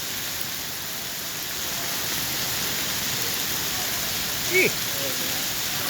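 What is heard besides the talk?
heavy rain downpour on a New York street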